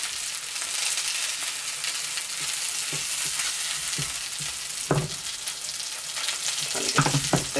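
Haddock fillets frying in coconut oil in a pan, a steady close sizzle with scattered crackles and pops growing livelier toward the end, no talking.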